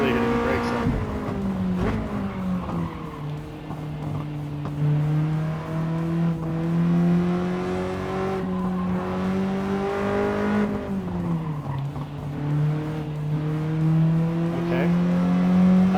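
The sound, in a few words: car engine racing in the video game Gran Turismo 7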